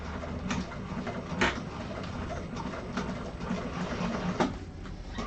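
A sewing machine stitching along the piping of a double-zip handbag, a close, continuous mechanical hum with irregular clicks and soft thumps throughout and no talking.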